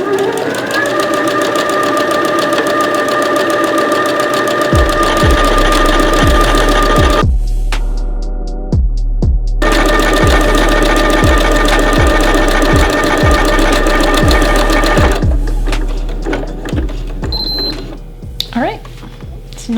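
Home sewing machine stitching a buttonhole, a steady loud mechanical whir with rapid regular needle clatter, pausing briefly midway before running again, with soft handling sounds near the end.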